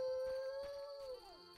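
A dog howls in The Witcher game, one long steady mournful note that slides downward and fades, fairly faint over quiet ambient background.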